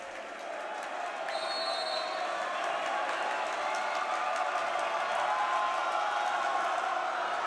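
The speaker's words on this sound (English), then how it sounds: "A very loud crowd here tonight for the Lancers as they have come out in force." A packed home crowd at a St Francis Lancers high school basketball game in a gym keeps up a loud, continuous roar of cheering and clapping at tip-off, steady from start to finish.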